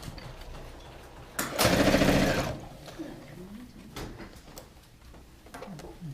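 A sewing machine runs in a short, loud, steady burst as it stitches bag fabric, then stops, with quieter handling noise and voices nearby.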